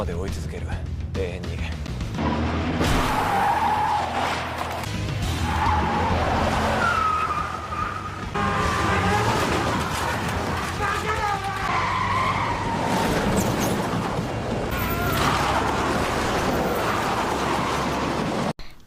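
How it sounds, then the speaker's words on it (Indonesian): Tires squeal and skid repeatedly in a film car chase along a street, with engines roaring throughout and a voice talking over the continuous, loud action. "kejar-kejaran yang sengit di jalan pun tidak bisa dihindari"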